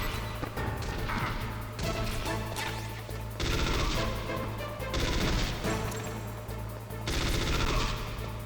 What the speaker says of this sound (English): I hate the shooting in this game.